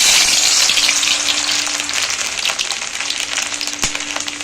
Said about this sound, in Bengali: চুলায় তেল গরম দিয়েছি, এখন আমি আস্তে আস্তে ছেড়ে দেবো হচ্ছে গাজর